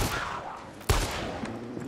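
A single sharp gunshot from a weapon in the shooter game Far Cry 6 cracks out loud and close, its boom fading quickly over faint background game ambience.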